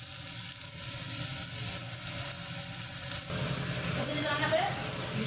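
Onions fry in a pan for a Bengali rui fish curry, giving a continuous close sizzle. The sizzle grows brighter and shifts partway through, as though the onions were stirred or the heat changed.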